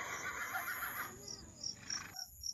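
A horse neighs and whinnies at night in a remote area, a drawn-out whinny with several high, wavering bursts, faint and distant against a low background hum, with no talk over it.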